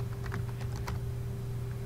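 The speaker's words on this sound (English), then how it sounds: "I'll begin by typing the word DataTable." Computer keyboard typing during a software tutorial, a quick run of close, light key clicks over a steady electrical hum.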